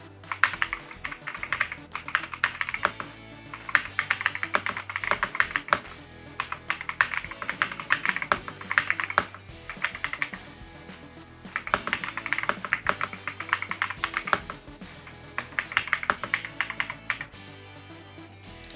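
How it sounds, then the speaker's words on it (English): Someone types quickly on a Royal Kludge R65 65% mechanical keyboard, bursts of crisp key clacks in uneven runs with short pauses between, close and fairly quiet, with no talking. "now let's move on to the keyboard test."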